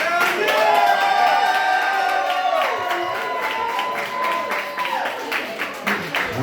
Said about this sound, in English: round of applause for our matron of honor, Jennifer Miliaccio.